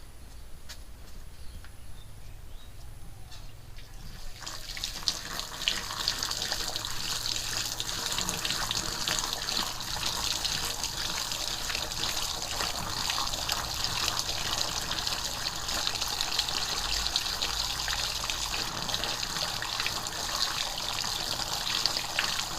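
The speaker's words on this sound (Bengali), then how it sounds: "এখন আমি মাছগুলো পরিষ্কার করে ধুবো" Cut lata fish being washed under a steady stream of running tap water, which gushes continuously and fairly loud after a quieter start.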